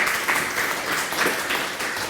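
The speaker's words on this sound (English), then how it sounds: "A warm applause for Ute." An audience at a lecture event gives warm applause, a steady wash of clapping that is moderately loud and continuous throughout.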